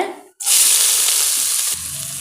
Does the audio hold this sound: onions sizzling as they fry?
yes